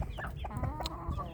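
Several chickens, among them a small yellow young rooster, cluck in a series of short, close clucks and chirps, fairly quiet and without any talk.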